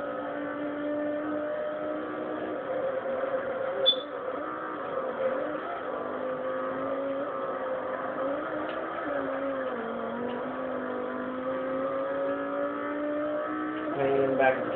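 Race car engines drone and shift pitch during the second lap of a Forza 4 race at Sebring, a steady layered whine that rises near the end, with a voice talking over it.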